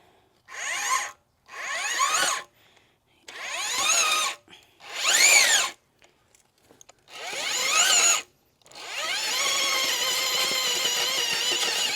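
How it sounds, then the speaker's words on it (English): A power auger drills into soil for planting a Crimson Queen Japanese maple and evergreens, whirring in five short bursts with pauses, then running steadily for a longer stretch, close and with no talk. "I'm gonna go get my auger."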